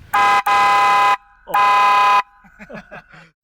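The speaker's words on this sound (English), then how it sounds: "We've got the train horn." Three loud, blaring blasts of a deep multi-tone train horn mounted on a car, close by, followed by a moment of people talking.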